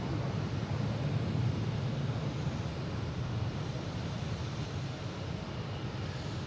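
An American Airlines airliner taking off at Boston Logan International Airport, its engines producing a steady, broad, distant roar that holds without break.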